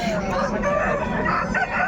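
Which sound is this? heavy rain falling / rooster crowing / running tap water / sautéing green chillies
rooster crowing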